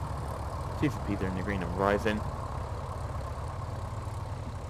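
Left engine of a Piper PA-44 light twin aircraft idling just after start, a steady low drone running throughout, heard under a man's spoken cockpit check.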